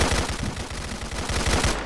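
Steyr AUG A3 modular assault rifle firing 10mm rounds in Fallout 4, a rapid automatic burst of sharp, evenly spaced shots, loud and close, with no talk.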